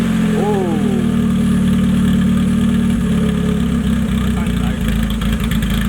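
Honda-swapped buggy engine catching and settling into a loud, steady idle close by, with a brief early rev and rough, pulsing low rumble throughout.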